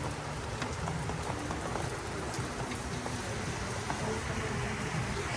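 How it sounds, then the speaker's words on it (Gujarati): Steady rain falls continuously, a dense even hiss of drops on surfaces with no voices. "બરાબર વરસાદ આવે છે."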